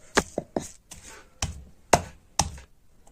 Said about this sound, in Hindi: शलगम साग को अच्छे से कूटना है। इसको हमें पेस्ट जैसे बनाना है।